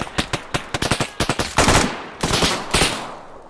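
A mounted PKP machine gun fires in an ArmA 3 firefight: sharp staccato bursts of close, loud shots in quick rhythmic clusters, followed by a few longer, heavier sustained bursts that ring out into the open air.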